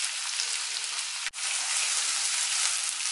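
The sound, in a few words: gooseberry pickle mixture sizzling while being roasted in pan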